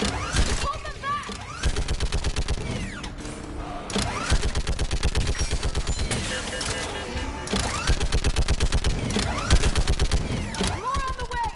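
Rapid bursts of automatic gunfire ring out in a Mass Effect Legendary Edition firefight, dense rhythmic volleys with brief pauses, loud and close, with voices calling out between the bursts.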